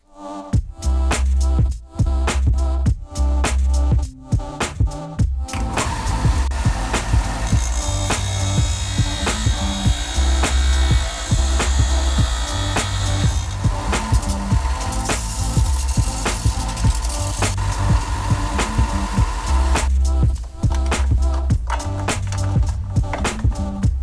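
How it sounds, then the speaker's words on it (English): A power grinder takes material off the end of brake shoes on a 2002 Bugeye WRX project car, a loud continuous abrasive whine running for most of the stretch, with sharp rhythmic knocks before and after, no talk. "on this end, we're just going to take and we're going to grind off some material"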